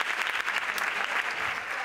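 A crowd applauds steadily at a carnival proclamation in San Roque as the carnival queen receives her sash, a dense wash of clapping that holds at an even level.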